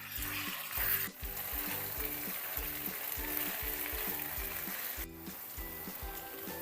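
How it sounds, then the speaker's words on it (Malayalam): Pepper chicken roast sizzling in a pan as the moisture cooks off, a continuous close frying hiss with a steady rhythmic low pattern and two brief scraping stirs, with nobody talking. "ഇളക്കി വെള്ളം വറ്റിച്ചെടുക്കാം"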